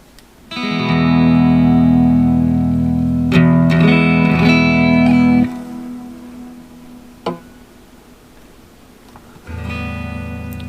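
An electric guitar plays through a Positive Grid Spark practice amp set with a little reverb, sustained strummed chords ringing out in two loud passages with a pause and a single picked note between.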